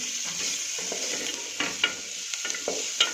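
Coriander stems are stirred in a hot pan while making tomato soup, a soft sizzle under a few distinct scraping clacks of the spoon against the pan.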